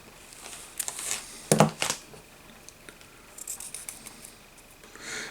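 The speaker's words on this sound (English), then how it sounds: "I'm going to cut off a tiny amount" Scissors snip fly-tying material at a vise while tying a Sherry Spinner, a few quick close crisp cuts with light crinkling of the material in between.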